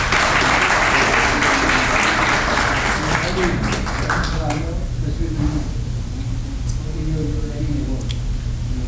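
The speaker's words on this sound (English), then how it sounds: "Round of applause, please." An audience at a school awards ceremony applauds, with steady dense clapping that thins toward the end while voices and a public-address tone sound underneath.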